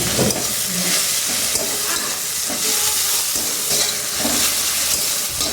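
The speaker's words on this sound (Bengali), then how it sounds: "মাছগুলো ভেজে নিচ্ছি, দেখো নুন হলুদ মাখা আছে সব।" Fish pieces coated in salt and turmeric frying in hot oil, giving a loud, continuous close sizzle and hiss with occasional stirring scrapes and no talking.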